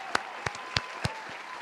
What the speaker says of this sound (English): let me give them a round of applause